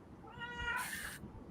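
A cat lets out one drawn-out, wavering meow at close range, rising into a brief noisy burst near the end before it fades.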